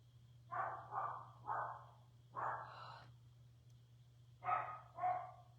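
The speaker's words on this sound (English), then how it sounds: "It's interesting that she's the only one barking, though." A dog barks about six times in two clusters, moderately close, over a steady low hum, no one speaking.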